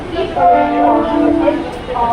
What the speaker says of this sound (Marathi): fast train is passing not cross the railway line